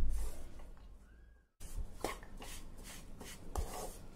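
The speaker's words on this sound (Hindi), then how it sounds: "बाकी घी भी हम इसमें ऐड कर देंगे और इसको भूनते जाएंगे।" Besan roasting in ghee in a pan, worked with a utensil: a steady run of rhythmic scraping and rubbing strokes, close and moderately loud, after a brief pause, with no talking.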